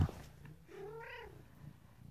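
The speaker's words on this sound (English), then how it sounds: "It's a really small cat inside of this box." A very small cat shut inside a box lets out one drawn-out, wavering meow, close and fairly clear, with a faint low rumble beneath it and no talking.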